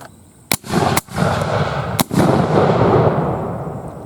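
Union Army Civil War muskets fire by rank, two by two, at a demonstration outdoors: three loud, sharp reports spaced apart, each followed by a long rolling echo and drifting noise.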